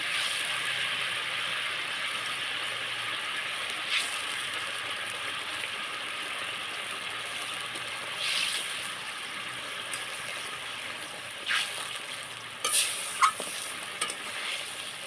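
Katla fish goes into a pan of simmering kalia gravy. A low, steady sizzle runs throughout, broken by a few short, louder bursts of spitting and clinking toward the end.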